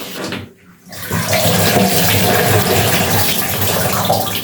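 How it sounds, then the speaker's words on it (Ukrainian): Water gushing and draining steadily from an orchid pot after showering the plants, a broad hissing rush close by, after a brief quieter moment at the start. "От я всю воду випускаю"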